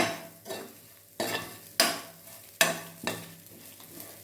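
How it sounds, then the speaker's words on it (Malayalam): Spinach thoran with grated coconut and turmeric being stirred in a pan, with five or six distinct scraping strokes of a spoon against the metal over a soft, faint sizzle. "നന്നായിട്ട് ഇളക്കി കൊടുക്കുക"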